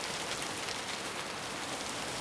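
Steady rain pours at a bus stop in a Scrubs TV scene, a dense, even hiss of drops on the surface throughout, with no voices.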